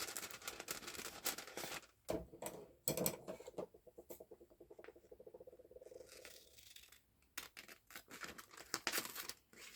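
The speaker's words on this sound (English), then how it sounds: "I think I better hand cut this." Paper cut by hand with scissors while making an envelope card, giving a run of close crisp snips and rustling crinkles in irregular bursts, some loud and some softer, with no talking.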